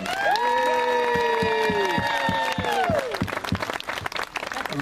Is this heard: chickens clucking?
no